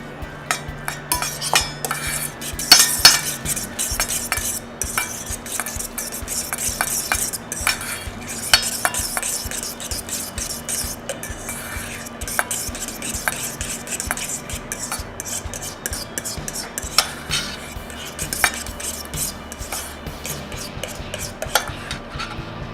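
A spoon stirs sweet potato dip with cinnamon in a bowl, steady scraping and clinking strokes repeating throughout, close and moderately loud, with no talking.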